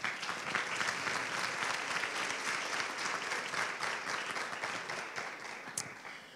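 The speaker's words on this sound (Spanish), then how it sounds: "un fuerte aplauso para estas tres mujeres" An audience at a business panel gives a sustained round of applause for three women panelists. The clapping is dense and steady and fades slightly toward the end.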